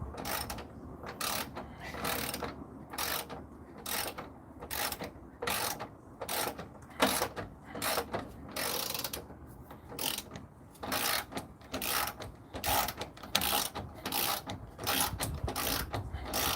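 A ratchet loosening bolts on the chassis of a 1984 Buick Regal gives rapid, close clicking bursts in an uneven rhythm, repeated many times with short pauses between strokes, and no talk.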